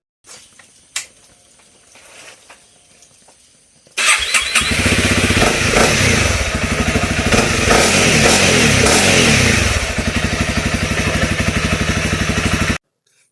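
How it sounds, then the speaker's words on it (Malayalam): Quiet clicks and fumbling, then a motorcycle engine catches and settles into a loud, rapid idle before cutting off abruptly. "ഫൈനലി വണ്ടി എല്ലാം സെറ്റ് ചെയ്ത് കഴിഞ്ഞു. നമുക്ക് ഒന്നുകൂടെ സ്റ്റാർട്ട് ചെയ്ത് നോക്കാം"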